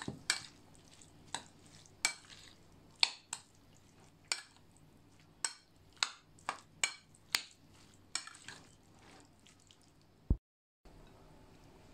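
German herring salad with mayonnaise and carrot being stirred in a bowl, giving a series of wet, squishy clicks at an irregular rhythm, close and fairly quiet, with no talk.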